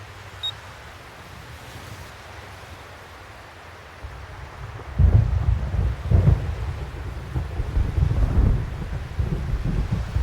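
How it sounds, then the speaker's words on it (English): Thunder rolls through a stormy scene in Xenosaga Episode I, starting faint and then swelling into loud, deep rumbles over a steady wash of wind and rain, with no voices. "I hate thunder."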